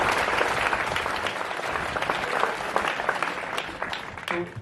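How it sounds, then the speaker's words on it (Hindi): An audience at a Bajju education event bursts into loud, sustained applause, dense clapping holding steady for several seconds before thinning slightly at the end. "एक बार जोरदार तालियां हो जाए"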